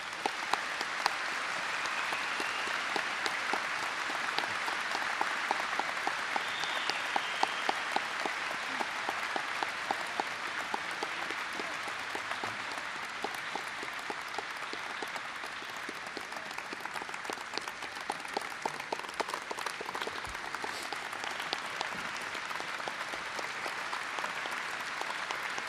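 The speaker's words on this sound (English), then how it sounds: "let's have one more round of applause for this magnificent aircraft" An outdoor audience claps for a B-17F Memphis Belle bomber in a long, steady wash of applause that stays even throughout, dense and moderately distant.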